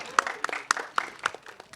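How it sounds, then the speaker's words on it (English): Scattered audience claps during a movie team press Q&A with media, a handful of distinct sharp claps in an irregular rhythm, thin and brief rather than a full ovation. "Can we have a huge round of applause for Bobby sir?"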